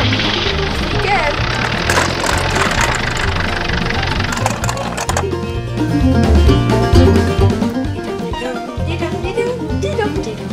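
An engine starts and settles into a rough idle with low rhythmic throbbing, preceded by a brighter burst of noise, loud and close, steady rumble continuing to the end.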